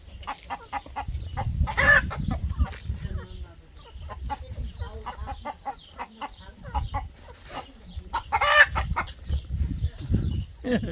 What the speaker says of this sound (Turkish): Horoz çıkarsa vallahi öttürür seni.